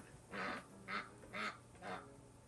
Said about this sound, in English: That quacking you hear in the background is our pet ducks.